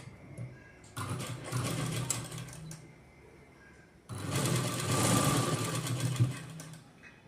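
A sewing machine stitching a button strip onto a blouse runs in two loud, steady bursts of close mechanical whirring, separated by a short quiet pause.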